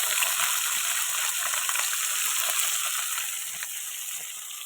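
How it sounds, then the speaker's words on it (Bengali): Large river fish fry in hot oil with a steady, dense sizzling hiss that stays loud and continuous throughout, with no talking. "দেখতেই পাচ্ছি কত সুন্দরভাবে মাছ ভাজা হচ্ছে"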